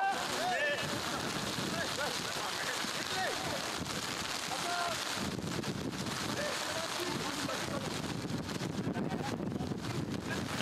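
Wind buffeting a microphone at an outdoor football training session, a constant loud rushing roar with gusty fluctuations, with voices faintly present beneath it.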